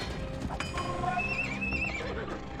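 A horse whinnies once in the real-time strategy game Age of Empires 2 during a 1v1 Teutons match on Arabia. The short, clear neigh rises over low, busy game background sounds.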